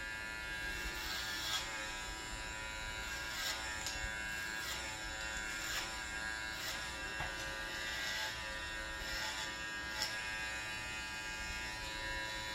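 A JRL 1040 electric hair clipper buzzes steadily through a haircut, a dense close hum with small pulses as it runs through the hair, with no talking.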